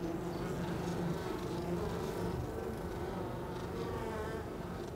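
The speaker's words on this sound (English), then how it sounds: "Beekeepers Neil Farine and Joe Herré are working with biologist Anne Dalmont to try to separate the sick bees from the healthy ones" Dense, steady buzzing of many honey bees at a hive dying from varroa mites, continuous and close, with no talking.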